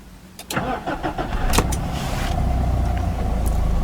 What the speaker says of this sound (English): Just apply the clutch and hold in the push button ignition.